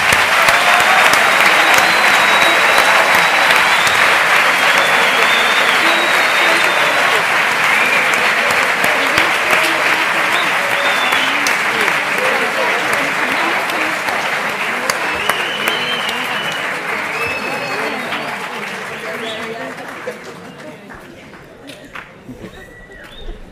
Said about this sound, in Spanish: quiero pedirles un gran